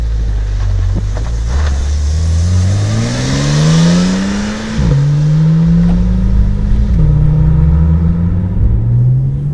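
A 2018 Porsche 991.2 Turbo S pulls away, its engine droning loud and close with a rising pitch, clear drops at each upshift and a broad rushing roar over the top.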